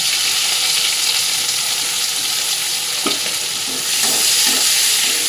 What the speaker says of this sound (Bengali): কালো জিরেটা ভাজা ভাজা হয়ে গেছে এবার দেড়খানা মতন পেঁয়াজ কেটে রেখেছি বড় পেঁয়াজ তো সেই জন্য পেঁয়াজটা দিয়ে দিলাম